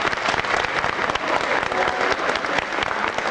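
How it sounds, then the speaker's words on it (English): Audience applause at a live stage show, dense and sustained clapping from a large crowd that fills the room evenly for several seconds, heard up close with no talking over it. "Again, a nice round of applause again for them."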